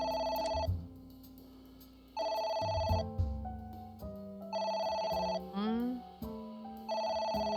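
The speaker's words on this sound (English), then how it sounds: "Yep. phone. Should I pick it up?" A phone rings in the video game AI: The Somnium Files as loud, repeated bursts of electronic trilling, several rings separated by pauses, with game sounds and music in the gaps.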